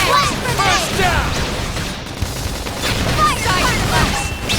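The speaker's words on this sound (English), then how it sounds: "toppling it with gunfire!" Gunfire in the video game Xenoblade Chronicles X, with a dense fusillade of rapid shots and impacts over a loud, busy battle mix that keeps going the whole time.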